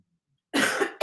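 A single person's harsh, loud cough bursts out close after a near-silent lead-in, followed by a second short cough cut off at the end.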